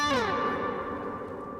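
A single electric guitar note plucked and left ringing, its tone washing into a long, spacious reverb tail that slowly fades.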